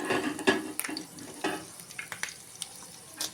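Garlic dropped into a well-heated pan at home, giving faint crackling sizzle with scattered clicks and scraping stir sounds across a few seconds, with no talking.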